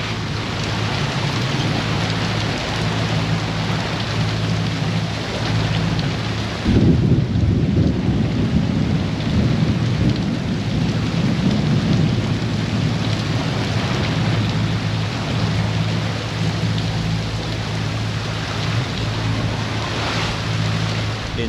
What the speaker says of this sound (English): Rain is just disgusting, but lightning is really dangerous.